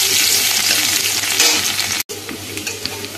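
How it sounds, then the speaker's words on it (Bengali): Crushed garlic and radhuni seeds frying in hot mustard oil give a loud, continuous bright sizzle, broken by one brief gap, with faint stirring and no talking. "এবার একটু হালকা করে ভেজে নেব।"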